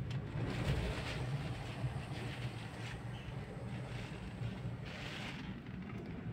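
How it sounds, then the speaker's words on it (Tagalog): Strong typhoon wind roars steadily with gusting, buffeting noise against the microphone, rustling throughout; no speech. "grabe na yung hangin"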